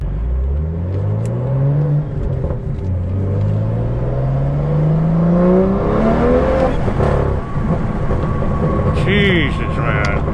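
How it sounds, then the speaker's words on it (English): A BMW M2 with a Bootmod3 Stage 2 tune pulls hard on a freeway, its engine note climbing through the revs in loud, sustained sweeps with a gear change midway, while a man exclaims over the roar. "So we're gonna do another little freeway pull like that."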